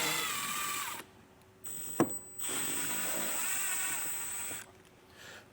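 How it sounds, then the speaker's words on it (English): A cordless power driver whines in two bursts while backing out T15 screws from the fender well of a 2024 Chevrolet Traverse, with a sharp click between runs and quiet pauses. "we're going to have 4 T15 screws. We're going to need to get those removed."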